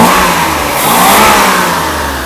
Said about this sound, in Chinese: 你看大哥这么快速的拉油门